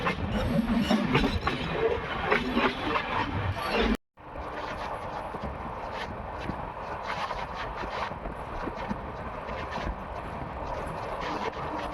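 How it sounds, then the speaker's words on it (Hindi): A Dayodaya Express passenger train rolling through Kishangarh city, heard from on board as a continuous rumble with rhythmic wheel clatter and rattling carriages, briefly cut off by a sudden drop before the running noise resumes at a similar level. "किशनगढ़ सिटी के बीच में से अब हमारी ट्रेन निकल रही है"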